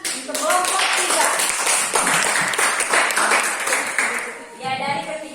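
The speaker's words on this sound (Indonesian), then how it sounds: "kita beri tepuk tangan untuk kelompok 3" A group of people gives group 3 a dense, sustained round of clapping that fades briefly near the end, with voices mixed in.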